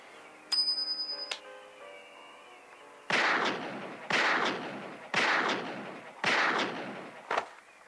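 Round of gunshots in a Batman-themed drama, heard as four loud, broad bursts in steady succession followed by a short fifth crack, after a brief bright bell-like ring.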